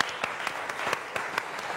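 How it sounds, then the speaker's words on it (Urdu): A studio audience at a Ramadan iftar television show claps in a steady, moderate round of applause, with scattered sharper individual claps standing out over the continuous patter. "تالیاں ہونی چاہیے."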